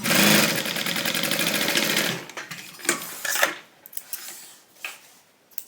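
A sewing machine runs fast and steady while stitching a tote bag, then stops, leaving a few scattered clicks and handling noises.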